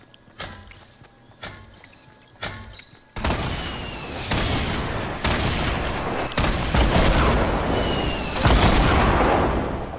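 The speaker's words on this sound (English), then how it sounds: "Is that you guys shooting?" Rapid bursts of gunfire in the Fortnite video game, starting with a few separate shots and then building into dense, sustained fire that stays loud and near, without any voices.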